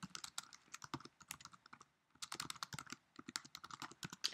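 Fingers type on a computer keyboard in quick, irregular bursts of sharp, close clicks, pausing briefly midway before resuming at a steady pace, faint overall with no talking.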